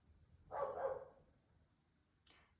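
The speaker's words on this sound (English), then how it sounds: "the dogs in the background if you hear it." Dogs bark faintly in the background: one muffled burst lasting about half a second, then a shorter, distant yelp near the end, with quiet room noise between.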